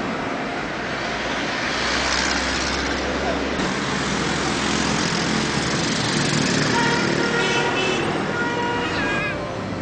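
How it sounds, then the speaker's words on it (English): Dense street traffic in Donghe, China, a loud continuous roar of engines from cars and buses, with horn tones sounding near the end. "The cars and the buses are continually sounding their horns all the time."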